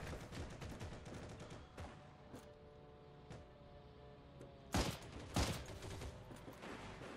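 Gunfire in the online shooter Heroes and Generals, rapid distant bursts of shots early on, then a quieter stretch and two louder, nearer shots near the end over a low background rumble.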